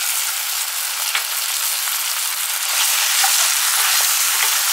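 Sauce poured into capsicum and bell peppers frying in a pan produces a loud, continuous hissing sizzle up close, swelling slightly louder partway through.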